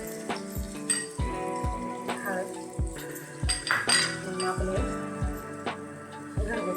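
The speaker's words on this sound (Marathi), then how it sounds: "डाल तिखट आपण व्यवस्थित असं भाजून घेऊया" Chili powder roasting in a pan for a chavat vegetable dish: soft frying sizzle under repeated clinks and knocks of a spoon against metal, close and irregular, with a few low thumps and no talk.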